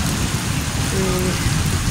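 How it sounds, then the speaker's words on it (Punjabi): Heavy monsoon rain in Multan pours down in a steady, dense hiss, loud and continuous, with no voices. "ਅੱਜ ਫਿਰ ਸਾਡੇ ਮੁਲਤਾਨ 'ਚ ਬਹੁਤ ਜ਼ਿਆਦਾ ਬਾਰਿਸ਼ ਹੋਈ ਹੈ"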